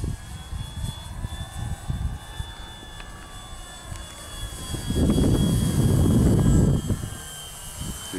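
An Avios Grand Tundra 1700mm RC plane on 6S power flies overhead, its electric motor droning faintly then swelling to a louder, closer whine before easing off, with wind noise around it.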